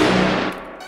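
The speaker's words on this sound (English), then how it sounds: "This is a really nice sounding brass, but it's really pitched down super low because I have it layered." Heavy, pitched-down synth brass layered with a signature-series sample, one dense low blast that sustains loudly for about half a second before thinning into a fading, airy tail.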